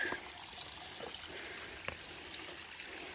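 A small stream trickles beside the Appalachian Trail in Vermont, a soft, steady burble of running water heard alone at low volume.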